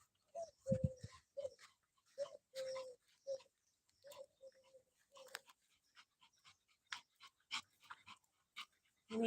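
A dog panting in quick, uneven bursts, close and fairly loud, with gaps of quiet between breaths and scattered faint background noises.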